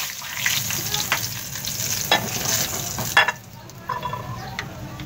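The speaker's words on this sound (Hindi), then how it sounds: "खड़े मसाले भुन चुके हैं।" Steady sizzling of whole spices (cardamom, cloves, whole chilies, bay leaf) frying in hot oil over a low flame for chana dal tadka, with occasional stirring scrapes and brief louder crackles, no voices.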